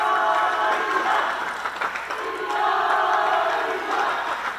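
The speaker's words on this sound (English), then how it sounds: "You can hear the crowd going crazy for this match." The crowd at an Asia Rugby under-18 sevens match roars and cheers in a steady, loud wash of massed voices with scattered clapping, rising and falling slightly throughout.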